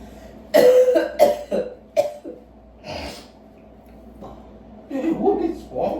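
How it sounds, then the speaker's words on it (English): A young woman coughs in a home, several harsh, closely spaced coughs with throat clearing and breathy gasps between them, loud and close, followed by a later burst. "Are you really coughing blood?"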